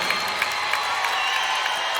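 A large arena crowd cheering and applauding at a rock concert in Manchester, New Hampshire: a continuous distant roar of voices and claps with faint whoops, filling the space without any single voice standing out.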